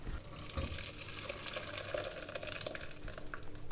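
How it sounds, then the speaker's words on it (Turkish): Cooked mince is strained into a pot, liquid pouring and splashing steadily, a continuous wet gushing with small bubbling bursts throughout. "Kıymamızı güzelce bir tencereye süzüyoruz"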